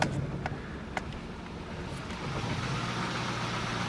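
A high-mileage car engine, around 243,000 miles, idles steadily with a low rumble, a few faint sharp lifter ticks standing out early on.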